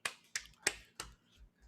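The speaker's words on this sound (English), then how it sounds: "golf clap, because I don't want to destroy everyone's eardrums" A few soft, quiet claps, four distinct sharp hits spaced about a third of a second apart, fading out with faint low rumble between them and no voices.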